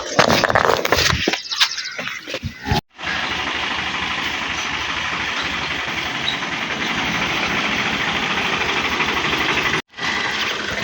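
A tractor engine runs loudly just after starting, a steady, close, throbbing rumble that holds evenly, broken by two brief dropouts.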